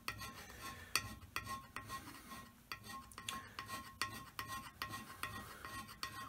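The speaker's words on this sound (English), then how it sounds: "Or scraping and flaking." A hand scraper works a metal surface during scraping and flaking, a close run of short rasping strokes in a quick, fairly regular rhythm, moderately faint.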